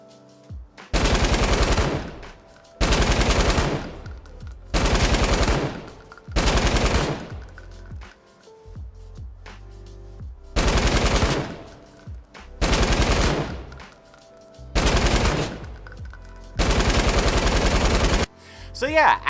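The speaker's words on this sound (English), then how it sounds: "What I'm gonna do is fire a full clip of a weapon on controller" Eight sustained bursts of automatic weapon fire in Fortnite, played on controller, each lasting about a second, loud and close, separated by short quiet gaps with faint game ambience.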